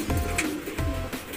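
Soft, low racing pigeon coos, two brief murmuring calls, close by with faint background noise.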